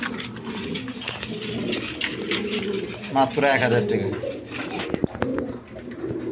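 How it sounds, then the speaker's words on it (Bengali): A pair of shirting pigeons coo in soft repeated bursts close by, heard under someone talking steadily throughout. "এইখানে এক পেয়ার শার্টিং কবুতর আছে"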